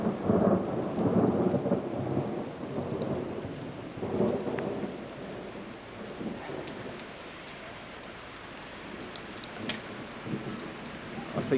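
A summer thunderstorm over Guildford, Surrey, with heavy rain and large hail hammering surfaces. Low thunder rumbles loudly at first, then a steady downpour with sharp pelting impacts continues without talk.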